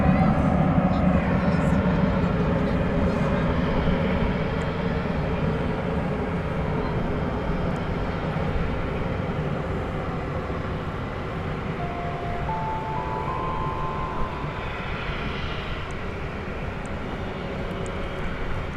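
An American Airlines Airbus A320 jet bound for San Antonio at Dallas Fort Worth Airport at night, a steady broadband engine roar filling the whole stretch at moderate loudness, holding nearly constant throughout.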